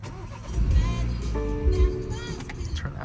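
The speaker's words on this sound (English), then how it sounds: "Go ahead and start the car." A 2021 BMW X3 xDrive30i starts up with a brief starter crank and the engine catching into a smooth, moderate idle hum, with some faint movement noise nearby.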